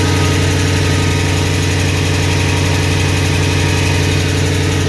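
A loud Jeep SRT8 engine idles steadily close by, with a rhythmic low rumble and a raspy, ticking puff from an exhaust leak throughout.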